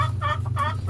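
Farm chickens clucking close by, a few short bursts of clucks over a steady low hum.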